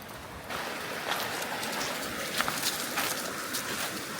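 A small forest stream flowing beside a tent campsite in a national forest gives a steady, soft wash of water that stays fairly quiet and even throughout, with a few light rustles or steps over it.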